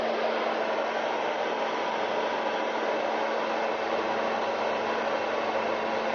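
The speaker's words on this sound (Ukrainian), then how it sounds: "Є фен, два положення. Включаємо перше положення." A hair dryer runs steadily on its first, low setting, powered through a 3000W pure sine wave inverter, a smooth, even whoosh of blown air with a faint hum underneath, continuous and close.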